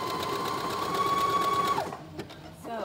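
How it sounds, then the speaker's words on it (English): A sewing machine stitches steadily along a garment neckline for nearly two seconds with a constant whir, then stops; faint handling noises follow. "You're gonna wanna make sure to sew onto that line because you don't want this to show to the outside of your fabric."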